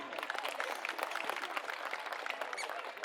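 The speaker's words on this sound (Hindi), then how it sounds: "आने वाली परफॉर्मेंसेस के लिए भी एक बार ताली चाहिए" An audience at a school graduation and annual felicitation ceremony claps continuously, a close, dense round of applause held at an even level for the whole short stretch.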